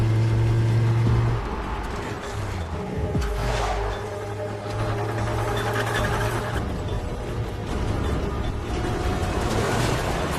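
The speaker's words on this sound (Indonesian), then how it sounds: "pria itu langsung menderek mobil mereka dengan kecepatan tinggi" A car towed at high speed through a forest at night gives off a steady, loud engine and road rumble with a mechanical whine that holds for the whole stretch, with a brief heavier surge near the start.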